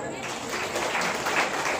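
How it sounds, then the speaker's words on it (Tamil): An audience at a Prathyangira Devi Thai Amavasai homam bursts into dense, continuous clapping, a short loud wash of applause. "ஜோரா கைதட்டுங்க"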